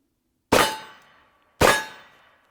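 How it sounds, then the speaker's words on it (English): A Keltec Sub-2000 carbine fires two sharp, loud shots about a second apart, each ringing off briefly, with silence before and between them. "So here we go, got a loaded mag in there. And let's start shooting. Take the safety off."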